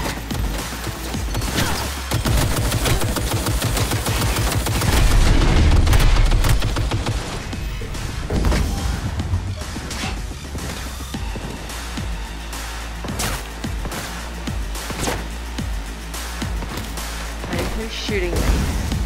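Gunfire aimed at the player's character in a Cyberpunk-style netrunner video game, a dense, loud barrage of shots and booms mixed with game music and effects, strongest around the middle, while a person talks over it.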